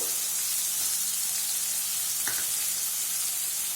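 Chopped onions and green chillies fry in a pan for instant fried rice, giving a continuous moderate sizzle with a couple of faint stirring clinks and no talk.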